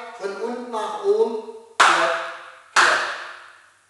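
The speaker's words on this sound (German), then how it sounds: "Jetzt klatschen wir zweimal von unten nach oben." Two sharp hand claps, evenly spaced and close, during a line dance to Hot Tamales, following a stretch of spoken instruction.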